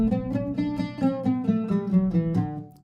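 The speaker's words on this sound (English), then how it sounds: "In a major scale, it would sound like this." A plucked oud climbs through a major scale, one bright ringing note after another at a steady pace, then fades out at the end.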